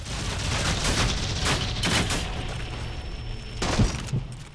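Gunfire rattles at the player in the video game Warframe, bursts of shots and booming impacts in a dense, loud barrage that swells and fades, with a couple of sharper cracks near the end.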